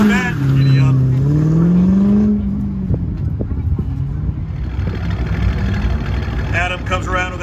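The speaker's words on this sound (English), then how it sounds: "We've got a Corvette, a GTO, and a Corvette." Sports car engines, Corvettes and a GTO, rev at a Goodguys racing event in Des Moines, with a loud rising engine note early on and then a rumbling drone under voices.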